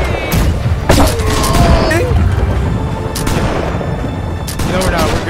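Gunfire in the pirate video game Blackwake: several sharp shots and booming blasts at irregular intervals amid chaotic battle noise, loud and close, with players shouting over it.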